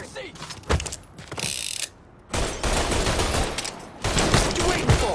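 Cannon gunfire in the Mafia 3 video game crashes out in dense, loud bursts of rapid booming shots mixed with mechanical clatter, filling the scene with brief gaps between volleys.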